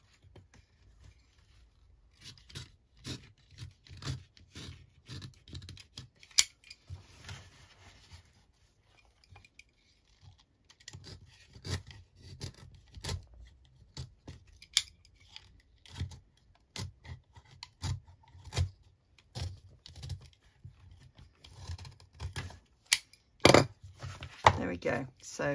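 A vintage book being cut apart to separate the book block from its cover: intermittent snips, scrapes and rubbing of paper and binding, near and crisp, in irregular bursts growing busier toward the end.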